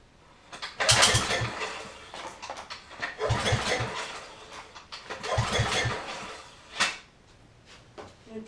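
A free generator's small engine turns over with a clicky, clacky mechanical rattle in three or four separate bursts, fairly close and with no talk over it.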